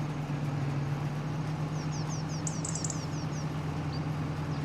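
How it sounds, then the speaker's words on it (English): A farm tractor engine runs at a steady idle as a low, even drone, with a few bird chirps faintly above it. "I'm going to turn that tractor up a little bit."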